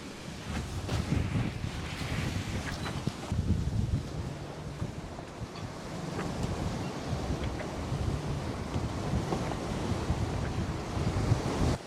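Ocean waves and steady wind at sea aboard a sailboat crossing the Coral Sea from Vanuatu to Australia, a continuous rushing wash of water with wind buffeting the microphone, no voices.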